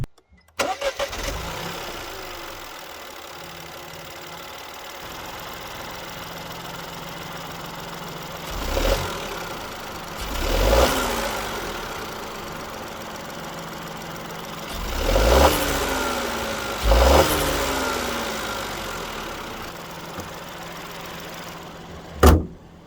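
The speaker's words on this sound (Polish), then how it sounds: "Jest to znana trzycylindrowa jednostka" A Citroen C4 X 1.2 PureTech 130 three-cylinder engine cranks and fires several times in a row, then settles into a steady, slightly uneven idle with occasional revs, recorded up close.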